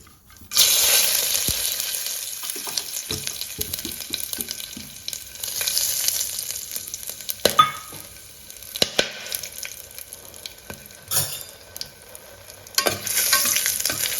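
Shahi jeera and cinnamon sizzle in a hot pan for pulao, a steady close frying hiss broken by scraping stirs and clinks of a spoon.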